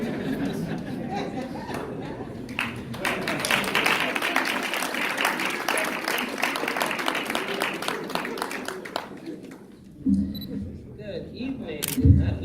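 Applause and cheering from a crowd at a pharmacists' association inauguration fill most of the stretch, a dense steady patter that fades out near the end, followed by a few louder scattered sounds.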